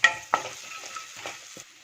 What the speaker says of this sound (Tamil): இது எல்லாமே சேர்த்து நல்லா ஒரு ஃப்ரை பண்ணிக்கோங்க